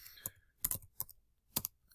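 Several light, separate key presses on a computer keyboard while a short summary is typed, spaced irregularly and heard close up in a quiet room with no talking.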